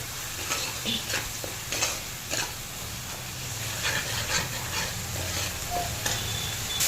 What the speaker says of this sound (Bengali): একটু মশলাটা নাড়াচাড়া দিয়ে কষিয়ে নেব